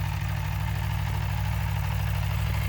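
A new 2024 Aprilia Tuono V4 1100 motorcycle idles nearby with a steady, deep, throbbing engine note, loud and unbroken, with no talking.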